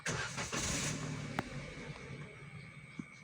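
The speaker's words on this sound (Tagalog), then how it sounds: "Start natin yung engine." A car engine turns over and catches, settling into a steady idle with a brief sharp click partway through.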